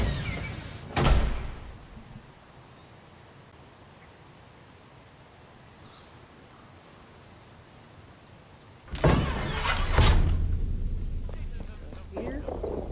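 A door in the video game Atomfall opening with a loud, close thud and clatter, then a second heavier opening sound followed by a lingering rumble, over a quiet ambient background.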